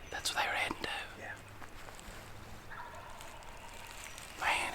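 A wild turkey gobbles in the distance on public land in Alabama, faint rattling calls rising over outdoor ambience, with hushed whispering close by.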